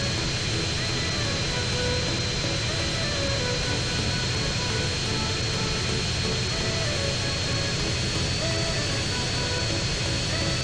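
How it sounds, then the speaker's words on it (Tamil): An airplane engine in a video game drones loudly and continuously as the aircraft flies toward a city, a dense, unbroken roar with a steady high whine running through it. "இந்த ஏரோப்ளைனை ஓட்டுறது ரொம்ப ஈஸியாக இருக்குங்க"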